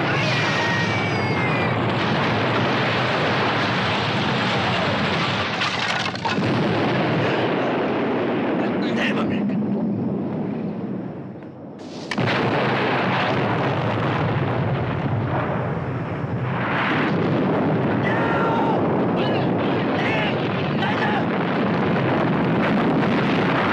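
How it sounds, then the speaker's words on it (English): Movie bomb explosion in an action film, a loud sustained roaring blast with rumbling debris and wind-like turbulence, a second heavy surge following a brief dip, with shouting voices mixed in. "It's a bomb."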